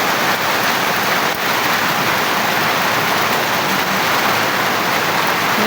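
Heavy rain pours steadily outdoors in windy weather, a dense, loud, unbroken hiss of water with no voices.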